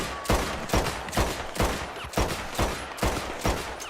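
Rapid pistol fire from a Mauser pistol in the video game Red Dead Online, eight sharp shots in a steady, quick rhythm with about half a second between each, loud and close, no voices.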